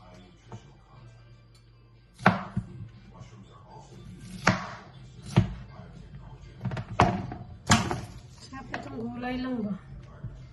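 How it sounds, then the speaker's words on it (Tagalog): A knife chops broccoli on a cutting board in a home kitchen, with a handful of sharp, separate thunks spaced a second or so apart, while someone talks over and between the cuts. "Tapos itong broccoli, hatiin ko na lang siya."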